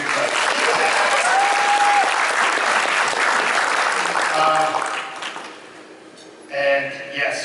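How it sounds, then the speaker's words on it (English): A crowd at a Disneyland Hotel fan club Halloween event applauds loudly and steadily for several seconds, with a brief whistle over it, before the clapping fades and a voice begins speaking. "So let's have another round of applause"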